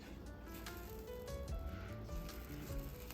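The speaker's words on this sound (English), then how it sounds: "you hear it sizzling?" Soft, crackling sizzle close up as butter melts on hot cornbread fresh from the oven, a gentle steady hiss with faint pops, quiet and without voices.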